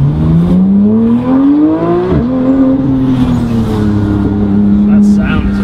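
A car engine revving steadily like a cup racing car, its droning tone rising and falling at close range while people talk over it.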